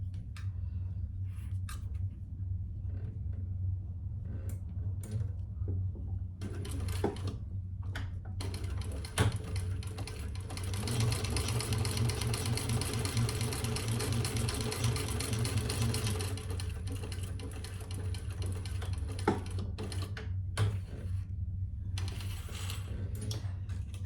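A sewing machine runs a steady, rapid top stitch down the sides of a large crossbody sling bag, starting and stopping in short bursts before one long continuous run, close and clear with no talk.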